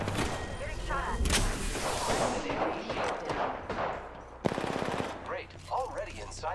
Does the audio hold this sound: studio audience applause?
no